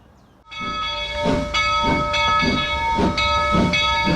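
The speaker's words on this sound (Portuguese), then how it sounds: "Então embarque com a gente no Trem das Termas, um dos atrativos de duas cidades" The Trem das Termas tourist steam train, running between towns in Rio Grande do Sul and Santa Catarina, lets off a loud, steady hiss of steam with a rhythmic chuffing pulse beneath it, close by and alone.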